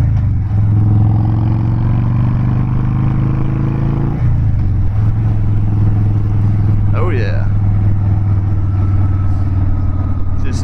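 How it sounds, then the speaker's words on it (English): A Harley-Davidson Dyna Wide Glide motorcycle engine drones loud and steady while climbing a hill, with a drop in pitch about midway as it shifts. The rumble continues strongly under a voice talking. "And now for the Harley-Davidson hill climb."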